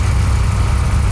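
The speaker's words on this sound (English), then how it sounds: "I set the idle down a little bit. It's a NASCAR motor" A NASCAR engine in a '55 Chevy idles with the idle set low, giving a loud, continuous low rumble close by.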